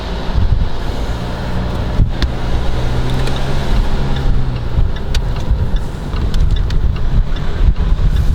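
Loud, steady wind buffeting and rushing past the microphone in a Range Rover Evoque Convertible HSE driving with its roof down, a continuous roar with low rumble throughout and no talk.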